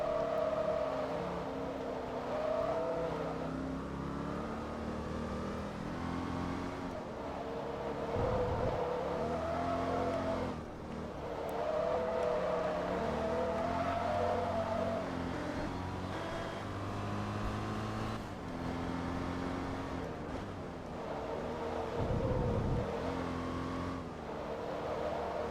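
A race car engine in Forza Motorsport 2 drones and revs steadily throughout, rising and falling with gear changes, loud and continuous with no talking.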